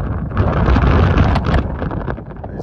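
Strong wind roars and buffets the microphone on the Camino del Salvador near Rodiezmo, a continuous, heavy rush of noise with no voices.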